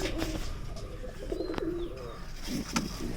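Soft, low cooing of pigeons repeats in short rounded phrases, close by, over a steady outdoor hum with a faint chirp now and then.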